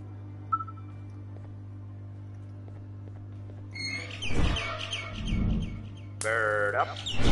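Birds chirp in the video game Garten of Banban 6, quiet tweets over a steady low electronic hum, followed by a brighter burst of warbling calls near the end.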